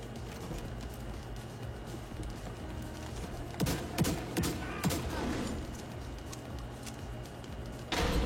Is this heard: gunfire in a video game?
yes